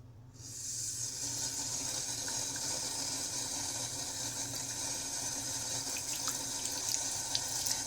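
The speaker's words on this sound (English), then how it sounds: "You got the sound of the water." Tap water runs steadily into a sink or tub during a puppies' first bath, a continuous close hiss and splash that holds unbroken and alone throughout, with no talking.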